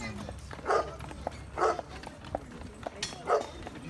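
A farm dog barks three times at a moderate distance, single sharp barks spaced about a second apart, with faint voices and outdoor ambience around them.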